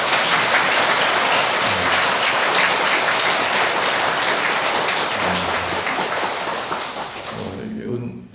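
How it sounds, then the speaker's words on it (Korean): A church congregation applauds at an anniversary Mass marking a priest's 40 years of ordination, steady dense clapping filling a large room for about seven seconds before tapering off. "오늘 아무튼 우리 신부님 열심히 사시라고 박수 한번 쳐주세요"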